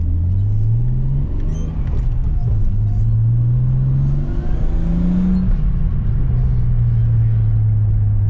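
A 1992 Nissan Skyline R32 GTS-t turbo engine drives hard, its loud, close drone climbing in pitch, dropping at a gear change, then climbing and settling again with a smooth turbo whir.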